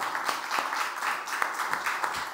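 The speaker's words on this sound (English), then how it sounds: "Please, a hand of applause." Audience applause at a public health ceremony, a short burst of moderately loud clapping from a room of people, fairly even and steady with no speech over it.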